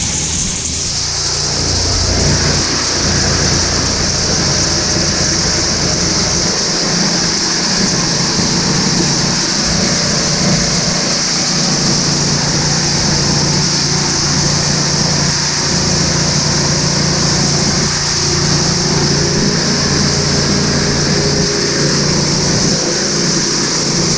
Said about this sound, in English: That went through the granulator extremely fast.